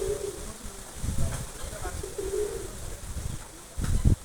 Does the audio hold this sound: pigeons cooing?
yes